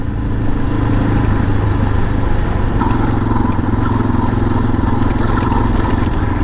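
A dual-sport motorcycle rides over rocky terrain with a loud, steady engine drone and rough rumble throughout, the pitch holding fairly even and the mechanical noise thick and close.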